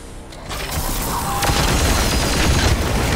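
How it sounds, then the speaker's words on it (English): An explosion in Warhammer 40,000: Chaos Gate Daemonhunters sounds as a loud, broadband boom with dense crackling debris that swells after half a second and roars on to the end, with no voices. "Boom! Look at that. The explosion."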